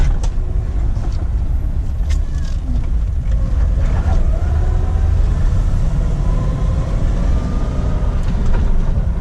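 A lifted, modified 1999 Jeep Wrangler with a 4.0 liter inline six drives along, its engine and road noise forming a steady, loud low rumble from inside the vehicle throughout.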